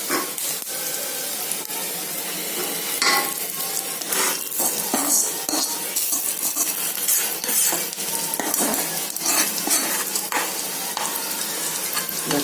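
Onions frying in ghee sizzle steadily in a pan while a utensil stirs and scrapes with irregular clinks and knocks, close and fairly loud with no talk.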